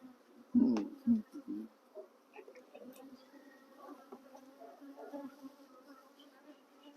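Bees buzzing softly inside a hive box under an inner cover, a faint, close, wavering drone with a couple of louder knocks near the start.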